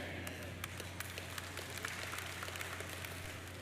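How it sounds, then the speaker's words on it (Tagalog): Church congregation applauding, a steady wash of many hands clapping with scattered louder claps, fairly distant and continuous throughout, no talk over it. "Ang pumalakpak yung mga maaga"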